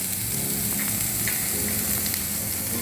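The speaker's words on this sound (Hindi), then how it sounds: "कैप्सिकम को बहुत ज़्यादा नहीं पकाना है, थोड़ा सा सॉटे करना है।" Capsicum sautéing in a hot pan for a cheese chili sandwich, a steady close sizzle and crackle of frying with faint stirring scrapes, no voices.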